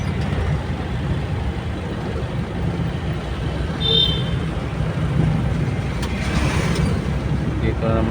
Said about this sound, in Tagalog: Flowing lang yung traffic ngayon.